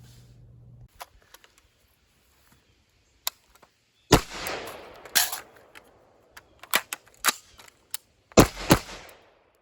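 Gunshots crack in sharp, loud bursts, a few isolated shots followed by a rapid cluster of shots, with quiet gaps and clicks of handling in between.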